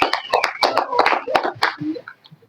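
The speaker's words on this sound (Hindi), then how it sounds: "ताली लगा दिया करो भैया" Hands clapping in quick irregular bursts, sharp slaps mixed with voices talking and shouting, fading to quieter sounds at the end.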